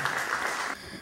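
Brief applause at a student council election ceremony at the Municipality of Miraflores, a soft wash of clapping that fades out toward the end.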